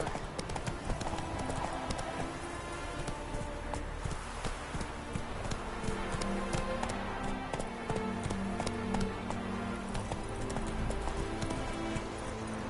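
Hooves of a galloping horse in Skyrim clatter in a fast, steady rhythm throughout, close and continuous, with an occasional brief voice over the running.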